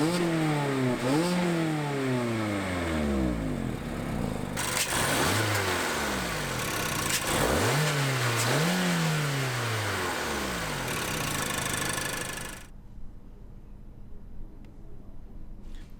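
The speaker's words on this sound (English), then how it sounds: "I'm going to start the car up here, and I want you to hear it's just a very nice but unoffending" 2016 Mazda MX-5 Miata engine running close by and revved several times, rising and falling in pitch before it suddenly cuts to near quiet.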